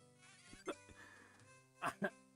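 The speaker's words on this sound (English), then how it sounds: "watching me just have the bees pollinate every freaking flower" Bees buzzing as they pollinate flowers in the video game Wario Land 4: a steady tonal drone with a few short sharp blips on top, close and quiet, with no talking.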